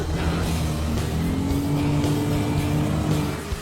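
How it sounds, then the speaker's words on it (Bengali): Cars drift in donut circles through water, with steady engine roar and revving plus tire noise and splashing wash, continuous and fairly close. "ও ওরা তো জলের মধ্যেই ড্রিফট করছে, পুরো ডোনাটের মতো লাগছে"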